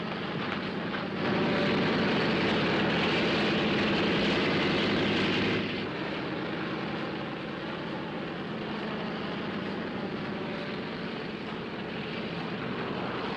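A propeller airliner's engines drone steadily before takeoff, a loud broadband roar that swells early and then settles into a slightly softer, continuous hum.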